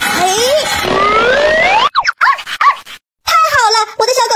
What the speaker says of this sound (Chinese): 我的小狗狗还在下面呢。